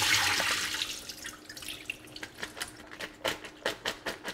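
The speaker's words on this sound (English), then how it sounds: "And then pour it into a strainer." Rinsed cucumbers and water are poured into a strainer, starting as a loud rushing splash that thins into a series of quick, close dribbles and drips.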